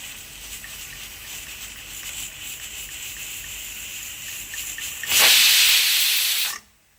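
A loud, steady hiss of escaping steam from a pressure cooker whistle, on high flame while cooking wheat rava pongal, bursts in after a faint hissy background, holds for over a second, then cuts off sharply.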